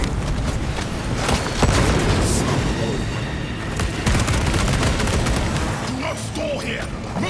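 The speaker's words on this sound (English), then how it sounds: "Throwing frag grenades!" Frag grenade blasts in the video game Space Marine 2 boom amid constant battle noise and rapid gunfire, loud and chaotic, with brief voices heard near the end.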